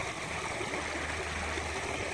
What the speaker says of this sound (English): This water's running a little bit fast